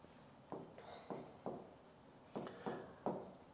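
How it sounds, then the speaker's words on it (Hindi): Chalk or marker strokes write examples on a board in about seven short scraping bursts, each starting with a sharp attack and trailing off, spaced irregularly, close and moderately loud. "अब देखिए जैसे मैं कुछ उदाहरण लिख रहा हूं"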